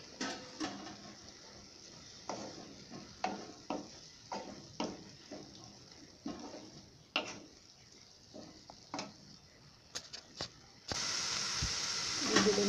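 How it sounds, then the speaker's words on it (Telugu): Bottle gourd halwa with sugar and a thick milk-powder-and-milk paste stirred in a pan: a series of irregular spoon scrapes and soft thuds over a low simmering hiss, ending in a louder burst of hiss. "ఈ విధంగా అంతా బాగా మిక్స్ చేసి ఇది బాగా దగ్గర పడే వరకు 2 మినిట్స్ ఉడికించుకోవాలి"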